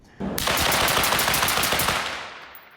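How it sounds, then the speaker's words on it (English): A rapid burst of suppressed Mk12 Mod 0 rifle fire, a dense stream of muffled shots running for about two seconds before trailing off. "There's a little bit of first round pop, as there is with any other suppressor."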